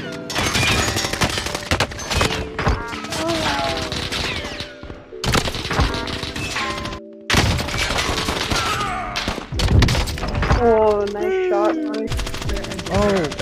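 Sniper rifle shots and other gunfire in a multiplayer battle game, sharp cracks recurring across the clip amid busy game effects, with talking mixed in.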